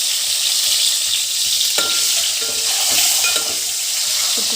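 Eggs hitting hot oil with turmeric in a pan for egg curry, a loud, close, continuous sizzle broken by a few crackling bursts and utensil clicks.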